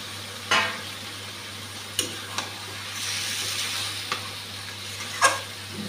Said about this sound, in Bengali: এখন অর্ধেক ভেজে রাখা ঝিঙ্গেটা দিয়ে দিচ্ছি।